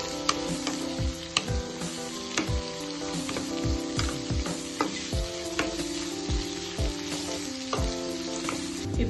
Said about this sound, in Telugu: ఇప్పుడు కడాయి పెట్టుకొని ఆయిల్ వేసి జీలకర్ర, తరిగిన ఉల్లిపాయలు 1 కప్పు, 1 పచ్చిమిర్చి వేసేసుకోవాలి.